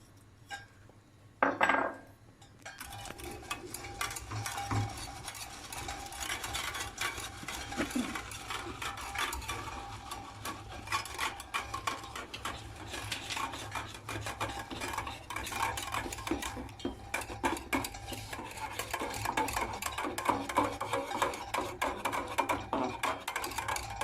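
Homemade soft potash soap being stirred in a pot with a utensil, producing a dense stream of close scraping and clinking strokes that runs steadily for most of the stretch after a short quiet start and one sharp knock.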